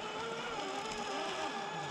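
A vehicle engine drones with the throttle held open while crawling along towing a trailer, a dense, steady, close roar with rushing noise and no talking.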